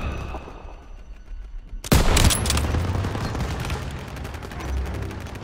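Heavy gunfire in the World War II shooter Call of Duty: WWII, with a sudden loud burst of rifle and machine-gun fire at street level that rolls into sustained, echoing volleys and distant booms.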